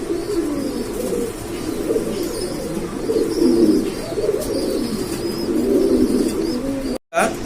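Blue barless male pigeon cooing in a loft, a steady low throaty murmur repeating through the whole stretch with faint chirps of other birds behind and a brief cutout near the end.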